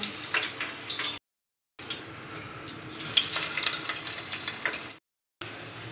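Shrimp spring rolls frying in hot oil, a steady broadband crackle and hiss with faint bubbling pops, broken by two short silent gaps, fairly close.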